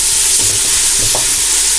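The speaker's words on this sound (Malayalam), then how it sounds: "നമുക്ക് തക്കാളിയുടെ പ്യൂര് ആഡ് ചെയ്ത് കൊടുക്കാം." Tomato puree goes into hot, sizzling masala in a pan while cooking Kochi-style pork vindaloo, giving a loud, close, steady frying hiss with faint stirring clicks.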